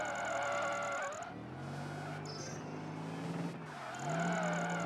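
Racing car in Project Gotham Racing 3's Midnight Racing Series, a powerful engine roaring loud and close with sustained tire squeal and skidding through corners, pitch dropping and rising again as it brakes and accelerates.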